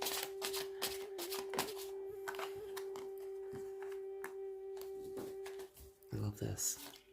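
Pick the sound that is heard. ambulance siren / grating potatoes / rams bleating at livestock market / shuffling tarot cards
shuffling tarot cards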